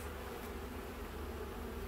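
Honey bees humming steadily during a hive inspection, a dense continuous drone of many insects close by with no voices.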